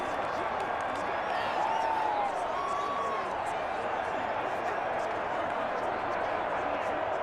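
Loud crowd roar fills a stadium at an NFL Wild Card game between the LA Rams and Seattle Seahawks, a dense sustained wash with brief whistle-like tones rising out of it and commentary heard underneath.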